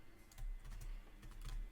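Keys clacking on a computer keyboard while a command is entered, a short run of soft quick keystrokes in an uneven rhythm, close and quiet.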